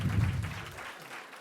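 A brief burst of applause at the official opening of a tribute museum on a pier, fairly soft, with a smattering of claps that quickly thins out.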